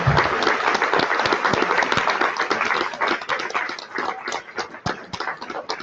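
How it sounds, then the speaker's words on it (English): An audience at a Democratic gubernatorial debate gives the candidates a round of applause: dense, sustained clapping from many hands that holds for several seconds before thinning slightly. "Let's give our candidates a round of applause for a great job"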